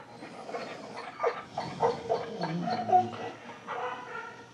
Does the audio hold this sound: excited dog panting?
yes